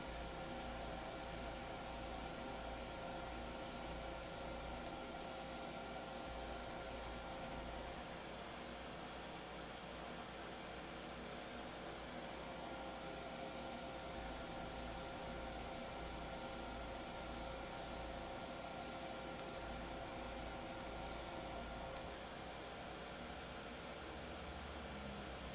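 A spray can primes Master Grade GM 2.0 robot model kit parts, giving quiet hissing bursts in two clusters of short rapid sprays separated by a calm stretch, over a steady low background hum.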